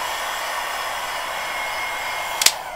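Hair dryer blowing steadily over craft paper for a journal, a loud constant whoosh with a brief sharp clatter near the end, with no voices.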